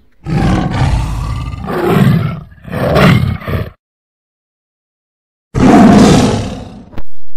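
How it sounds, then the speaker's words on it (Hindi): A lion roars loudly in a well, three long reverberant roars in close succession, a pause of silence, then another booming roar with a strong echoing tail. "वो गुस्से में दहाड़ने लगा और कुएं में उसकी आवाज गूंजने लगी।"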